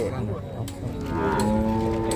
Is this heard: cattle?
yes